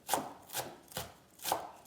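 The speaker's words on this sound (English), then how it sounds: "finish chopping the herbs." Knife chopping fresh herbs on a board for Persian herb rice and herb frittata, four crisp, evenly spaced chops about half a second apart, close and clear with no talking.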